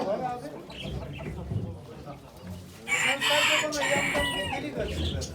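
Chickens and roosters at a poultry auction in Ankara, clucking steadily with a rooster crowing loudly partway through, mixed with an auctioneer and bidders talking over the birds.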